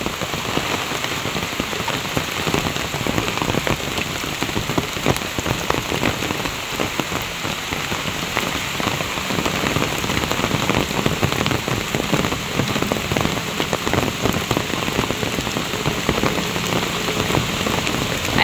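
Heavy rain pours steadily outside a house whose front yard is flooded with water, a loud, dense, unbroken hiss of drops drumming on surfaces throughout, with no talk.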